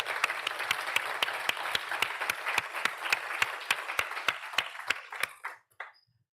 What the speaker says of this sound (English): All right, let's give Ayana another round of applause.